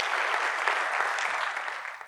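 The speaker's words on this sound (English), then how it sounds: "Let's give a round of applause for Corey." An audience at a FinOps X 2025 conference session claps steadily for a speaker, dense and sustained applause that tapers off near the end.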